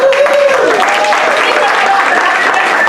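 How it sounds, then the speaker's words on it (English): An audience at an improv comedy show in Denver applauds in a steady, dense wash of clapping, with a voice carrying over it. "Give her a round of applause."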